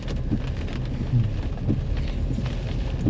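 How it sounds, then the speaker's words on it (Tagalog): Heavy typhoon rain pours steadily in Baguio City, a dense continuous hiss with low rumbling underneath and no voices. "grabe ang ulan dahil may bagyo"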